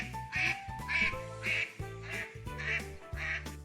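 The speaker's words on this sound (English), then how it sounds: "I'm Daisy the duck. I waddle, swim, and love the water." A farm duck quacks steadily, about seven evenly spaced nasal quacks close by and fairly loud, over a low background drone.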